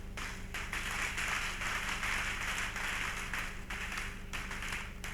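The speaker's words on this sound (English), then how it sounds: "Clap well, oh, clap well" A church congregation claps together during a sermon, a steady wash of many hands that holds at a fairly even, moderately loud level and is heard alone without voices.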